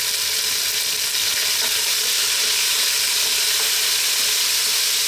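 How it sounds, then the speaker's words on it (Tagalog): Tomatoes for sinigang drop into a hot pan and set off a loud, dense, unbroken sizzle that fills the whole stretch with no voices. "So ngayon, dadrop natin yung ating kamatis."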